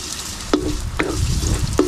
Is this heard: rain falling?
no